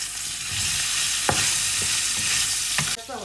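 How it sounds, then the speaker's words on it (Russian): Chopped pork fat (salo) frying in a pan, a bright continuous crackling sizzle with a few stirring knocks and scrapes, close up and without speech. "Сначала в сковородку отправляем сало, порезанное вот такими кусочками,"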